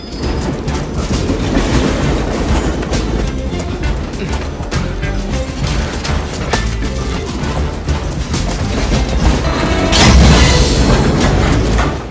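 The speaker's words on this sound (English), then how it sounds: "an onslaught of slow-moving freight trains" Loud, continuous rumble and clatter of freight trains rolling past up close, with heavy low-end roar and a brief surge of louder noise near the end.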